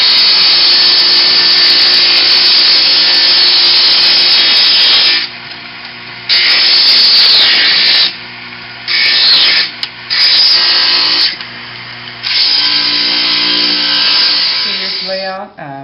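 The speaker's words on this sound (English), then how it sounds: "We'll take that to the grinder and we're going to grind it off." Stained glass grinder grinding off the edges of a cut glass piece for a suncatcher, a loud continuous buzzing grind that stops and restarts several times in bursts, with no one talking.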